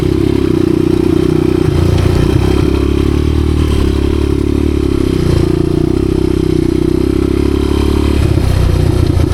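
A 1986 Honda XR200R dirt bike, its idle fault recently fixed, rides a trail with a loud, steady, close engine drone and light clatter, with slight shifts in revs.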